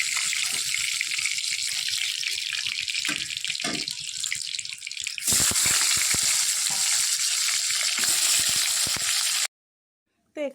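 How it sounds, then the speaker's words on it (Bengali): Fish rubbed with turmeric and salt dropped into hot white oil in a kadai, giving a loud, steady sizzle and crackle that runs throughout and then cuts off abruptly near the end. "মাছগুলো এবার ছেড়ে দিই।"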